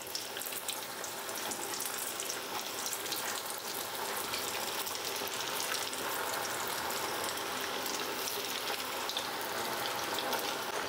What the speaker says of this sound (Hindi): तेल जैसे ही हमारा मीडियम गर्म हो जाएगा, हम एक एक पनीर डालते हुए फ्राई करेंगे।